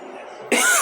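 A single loud, close cough bursts out abruptly halfway through, following a quiet stretch of low room noise.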